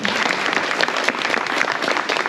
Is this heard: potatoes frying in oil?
no